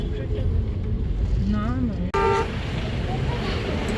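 Car horns toot near and far amid engine rumble in a traffic jam on a Darjeeling mountain road near Ghoom, with a voice talking over the honking.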